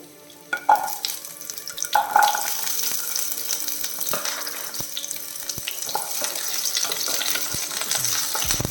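Small onions and ginger sautéing in a pan, with a steady soft sizzle broken by the scrape and clink of stirring, close and moderately loud with no talking.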